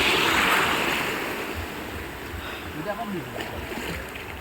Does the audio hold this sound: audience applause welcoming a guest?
no